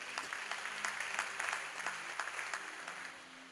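A church congregation applauding during a sermon, a steady wash of many hands clapping from start to finish, moderately distant and fairly soft, with no voices over it.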